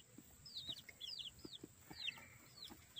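Faint, distant rooster calls with short clucks and chirps scattered over a quiet outdoor homestead hum; a few soft thumps mixed in.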